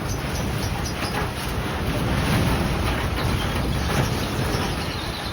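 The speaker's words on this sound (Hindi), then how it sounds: "ये तो बहुत ज़्यादा हवा बहुत तेज़ आ रही है, पूरी ये छत काँप रही है" Strong wind blows hard against a roof, a loud, constant roaring gust with rattling and buffeting throughout, no voices.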